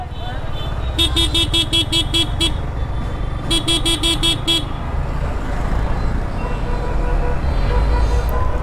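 Road traffic in a jam rumbles steadily while a car horn honks in two rapid bursts of short toots, then the engines and traffic noise continue.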